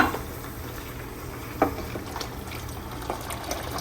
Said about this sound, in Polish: wsypię do garnka i zaleję gotującą wodą